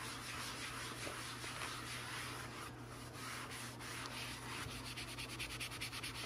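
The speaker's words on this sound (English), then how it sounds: "just a little bit of elbow grease can take that layer of dirt and make these colors" Steady hand scrubbing of an Atari Paperboy arcade control panel overlay to lift off dirt, a continuous close rubbing that grows into quicker rhythmic strokes near the end, with no talking.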